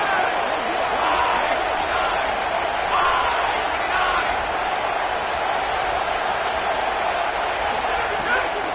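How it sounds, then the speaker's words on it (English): A packed American football stadium crowd roars continuously during a Minnesota game, a dense, steady wall of cheering with a commentator's voice talking over it. "this crowd is at fever pitch"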